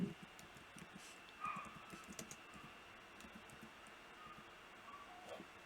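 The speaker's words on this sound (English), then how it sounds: "and I keep typing with the wrong keyboard." Quiet clicking of keys on a computer keyboard, scattered irregular taps with occasional heavier strikes, faint and close against a low background hum.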